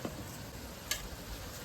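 Onions frying in a pan with oil for ghugni, a faint, steady sizzle with one brief clink of a utensil partway through.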